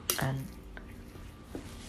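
Spoon stirring a minced meat laab mixture in a bowl, with a few soft scrapes and clinks spread across a short stretch, quiet and close.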